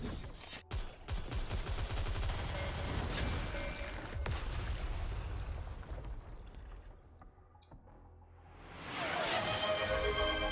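Rapid volleys of gunfire and cannon blasts from a ship's gun ports in a video game, dense and loud, easing off briefly before another burst swells near the end.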